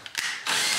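Power drill driving a screw to fix a bench on a model railroad layout: a short, close whir with a couple of ticks at the start, then the motor spinning up loudly for the rest of the brief moment.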